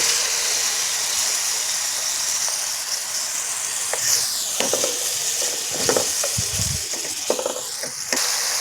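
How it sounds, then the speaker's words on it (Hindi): Dal mash (urad lentils) fries steadily in a pan as tomatoes go in, a continuous close sizzle with steam hiss, broken by scraping stir strokes and a few soft clunks partway through. "अब हम इसके अंदर टमाटर शामिल करने लगे"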